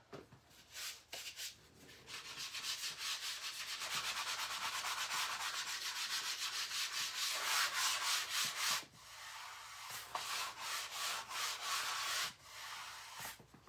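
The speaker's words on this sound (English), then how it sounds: "I am lightly going to sand over it." Steady abrasive rubbing of sandpaper worked lightly back and forth over a painted oval spring sign decorated with napkin and stencil, close and continuous with brief pauses between passes.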